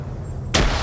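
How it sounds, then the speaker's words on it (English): Grenade going off during a military video game PvP match, a single sudden broadband burst after quiet, fairly distant-sounding and ending the clip with a rumbling tail. "That's a grenade."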